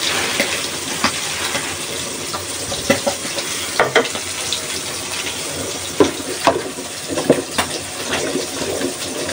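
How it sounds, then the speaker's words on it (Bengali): Puti fish (small pool barb) frying in a pan, a steady broadband sizzle with scattered crackles and pops, fairly close and moderately loud, with no talking. "আর দিক দিয়ে পুঁটি মাছ ভাজিগুলো হচ্ছে।"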